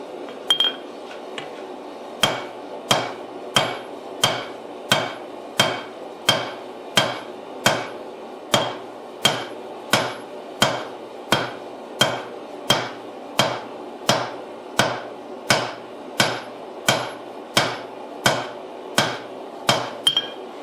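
Hammer blows strike a hot Damascus steel billet being forge welded, about twenty loud ringing metallic hits in an even steady rhythm, each with a sharp clink, alone over a low forge roar.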